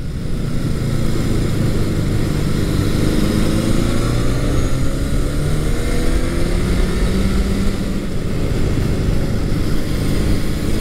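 A Honda CB750 barn-find motorcycle engine while riding, a loud continuous drone with rising, sweeping pitch as revs climb above 6,000 RPM, steady and close with no talk.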